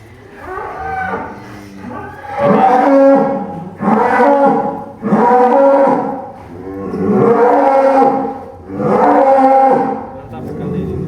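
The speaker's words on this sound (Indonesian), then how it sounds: "Ini salah satu sampel-sampel dari sapi kandang pedalaman." Limousin cattle with horns, large bulls near a ton, bellow in a rural holding pen, a series of five or six long, loud, close moos in steady succession with short pauses between.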